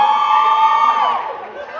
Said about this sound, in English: we got some loud cheering voices in the house right now